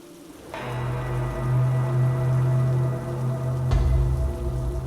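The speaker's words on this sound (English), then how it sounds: "The rain was heavy out and the winds were chilly." Heavy rain pours steadily with a low rumbling wind, a loud, continuous wash that swells after a brief quiet start, with no voices.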